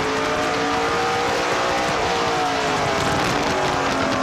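In-car audio from a NASCAR Pinty's Series race car with a damaged tire flopping around, a loud, steady engine roar with a rough, fluttering texture throughout, no talk.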